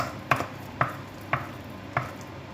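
Choux pastry dough being worked by hand with a utensil in a bowl, four sharp, evenly spaced knocks and scrapes close up, with no voices.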